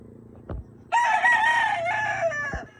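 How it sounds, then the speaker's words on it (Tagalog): A rooster crows loudly at close range during chicken feeding time on a farm, a single long cock-a-doodle-doo preceded by a brief cluck. "Nagpaligid sila sa mga manok."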